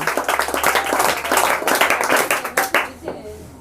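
Students clap together in a classroom quiz session, a loud, close burst of many hands that keeps up for a few seconds before tapering off at the end.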